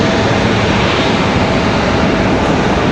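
Airliner arriving at Raleigh-Durham International Airport, a steady, loud broadband roar of jet engines and rushing air that holds constant throughout with no talk.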